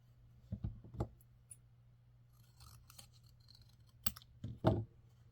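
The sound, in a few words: cutting paper with scissors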